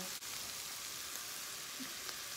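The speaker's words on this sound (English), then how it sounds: "we have to put the curry leaves, which is one of the most important ingredients for its flavor, and the chillies. Saute it." Curry leaves and chillies sauteing in a pan for upma give a steady, close hiss of frying oil that runs without a break, with no voices over it.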